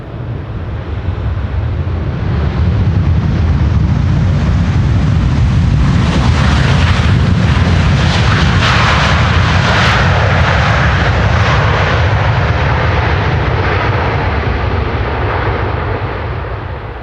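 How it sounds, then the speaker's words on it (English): Delta Airlines jet arriving from Atlanta and landing at Amsterdam Schiphol Airport in strong wind, a loud, sustained roar of thrust reversers that swells and then slowly fades, buffeted by wind noise. "Delta Airlines Flight 74 having arrived from Atlanta, Georgia. Reversers still working."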